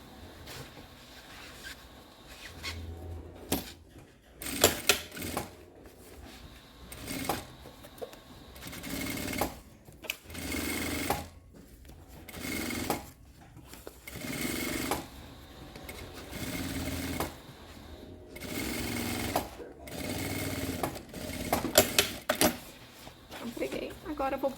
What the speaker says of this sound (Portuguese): vamos pregar o zíper e os forros e a nossa bolsa já tá quase pronta